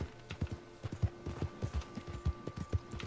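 Horse hooves clip-clopping at a steady trot or gallop in the Red Dead Redemption 2 video game, a quick even rhythm of soft thuds that runs throughout with no talking.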